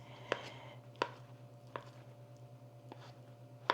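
Food being chopped on a board, four or five separate knife strikes spaced about a second apart over a steady low hum, fairly quiet and close, no speech.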